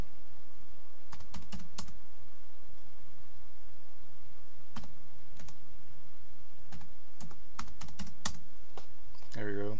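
Someone types a terminal command on a computer keyboard in Ubuntu 14.04. Close, crisp key clicks come in short bursts separated by quiet pauses, with a final flurry of taps near the end.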